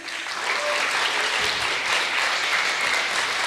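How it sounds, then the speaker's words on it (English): Enthusiastic audience applause at a startup pitch competition event, a thick, loud wash of clapping rising quickly and holding steady, with faint cheers mixed in. "Big applause for him."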